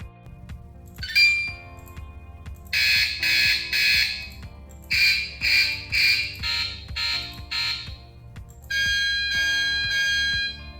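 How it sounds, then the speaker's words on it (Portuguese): Bright electronic beeps from an LED countdown timer panel in short bursts, a series of pulsed tones followed by a sustained tone, heard over a low background hum. "Configurar se eu quero o bip quando falta 10 segundos, ou bip nos 3 últimos"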